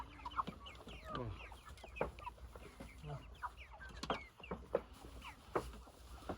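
Chickens cluck in short, irregular bursts from several birds close by, with a low steady background hum and no talking.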